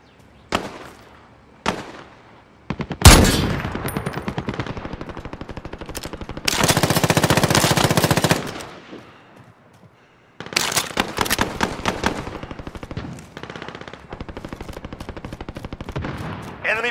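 Call of Duty Warzone gunfire on PlayStation 4 Pro: a few sharp single shots, then long loud automatic bursts with a harsh rattling stretch, a brief pause, and more rapid fire in close, punchy volleys.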